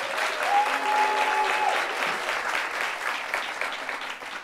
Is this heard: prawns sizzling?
no